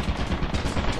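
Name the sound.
turret firing in video game Lethal Company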